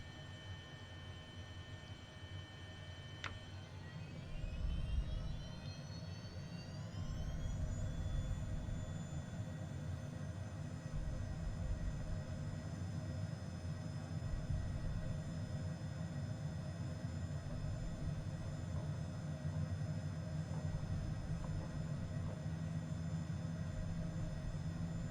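Jet airliner engines spooling up to takeoff power in Microsoft Flight Simulator: a steady low roar with whining tones that rise in pitch over a few seconds and then hold level as the thrust sustains.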